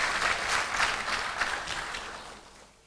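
Audience applause at an awards ceremony for an ecology prize, a steady wash of clapping that gradually fades toward the end.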